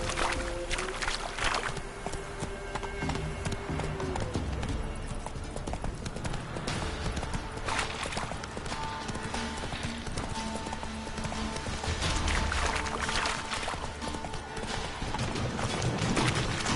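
Steady clip-clop of Roach the horse's hooves in The Witcher 3, a continuous rhythmic trot close up with ambient outdoor game sounds underneath.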